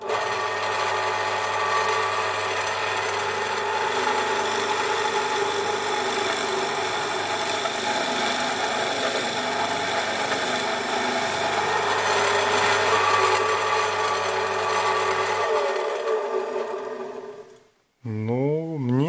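A drill whines steadily as a Forstner bit bores into soft pine, grinding for about fifteen seconds before the motor winds down and stops.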